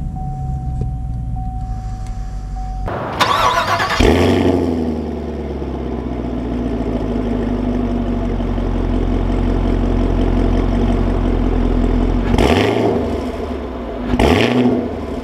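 A 2020 Chevy Camaro 2SS V8 cranks over after a short chime, catches with a loud flare, then settles into a deep, steady idle heard close up. The engine blips briefly near the end.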